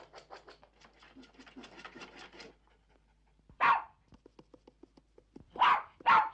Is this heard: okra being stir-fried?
no